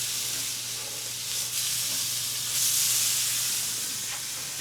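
Pork loin sears in a hot pan just after being flipped, giving a steady, close hiss and sizzle that holds level throughout and swells slightly near the middle.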